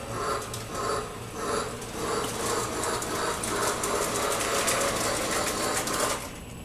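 A Lionel toy train with a salvaged motor running on its track, giving a steady, close mechanical whir with a rapid rattling, clicking rhythm that carries on without pause.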